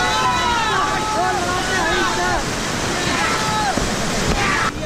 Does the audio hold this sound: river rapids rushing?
yes